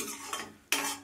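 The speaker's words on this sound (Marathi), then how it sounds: "छान मसाला परतून घ्यायचा" Masala being stirred and sautéed in oil in a pan for sukka chicken, a soft sizzle with a couple of spatula scrapes and one sharper clatter near the end, close and fairly quiet, no talk.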